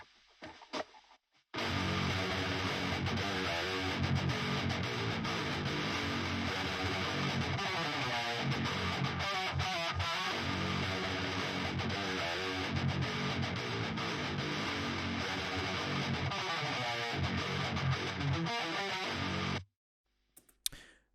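Heavy distorted electric guitars through a Fortin Cali amp plugin chug and riff on their own, thick and loud, starting after a short silence and cutting off near the end.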